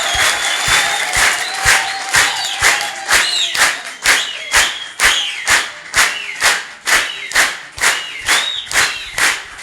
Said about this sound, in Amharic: እስቲ የማይቋረጥ የአንድ ደቂቃ ጭብጨባ ፈልጋለሁ